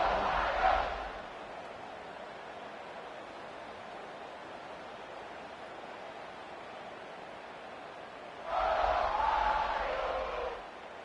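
A stadium crowd in the College Football 26 video game roars during a kickoff after a touchdown, a loud swell at the start, then a low steady murmur, then a second surge near the end.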